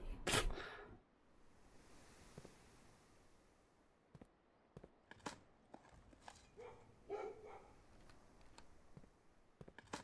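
A dog in the video game Blue Prince gives a few faint, distant barks in short bursts, scattered over quiet soft clicking.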